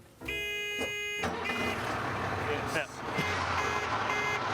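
A car's engine gives a steady, loud, droning roar inside a luxury pawn shop, running almost the entire stretch with a brief tonal beeping at the start and a short word spoken over it.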